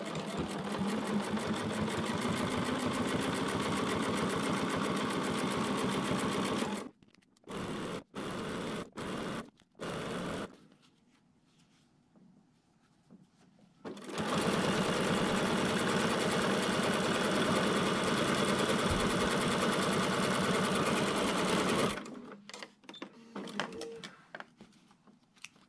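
A sewing machine stitching zipper tape onto quilted pillow backing whirs steadily and close by, stops for a stretch of short stop-start bursts and quiet, then runs again at length before stopping.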